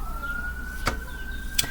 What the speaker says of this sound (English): I'm hearing sirens in the background.